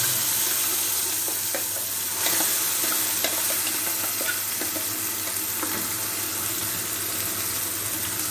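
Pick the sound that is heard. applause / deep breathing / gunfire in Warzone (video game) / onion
onion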